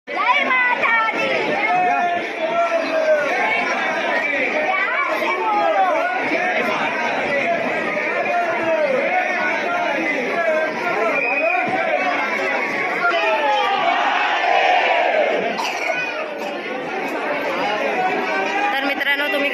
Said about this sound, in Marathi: तुम्ही गर्दी पाहू शकता आणि भक्तांचा आवाज देखील